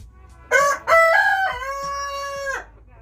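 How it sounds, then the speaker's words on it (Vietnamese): A rooster on a chicken farm in Washington gives one loud, close cock-a-doodle-doo lasting about two seconds, clear against a quiet background. "That's a rooster for ya."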